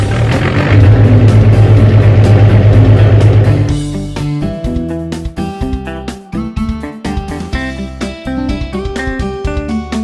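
A toy farm excavator with a loud engine-like drone for a few seconds, then shifting into clattering, rhythmic mechanical knocks and toots that continue to the end.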